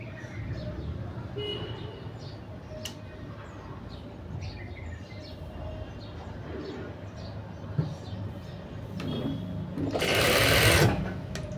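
A sewing machine stitches the front and back pieces of a blouse together, running in a steady close whir with a brief louder burst near the end, while soft pigeon-like cooing sounds faintly in the background.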